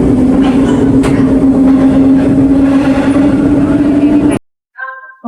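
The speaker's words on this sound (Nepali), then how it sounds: "ट्रेन आइसकेर कुद्नुपर्छ यहाँबाट" A Seoul metro train pulling into a station, a loud continuous rumble with a steady tonal whine and rail clatter that cuts off abruptly, followed by a brief electronic chime.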